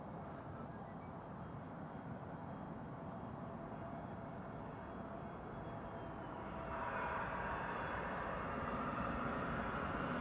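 A KLM Airbus A321neo, arriving from Bergen at Amsterdam Schiphol, gives off a faint, distant engine rumble that swells noticeably toward the end, with no voices present.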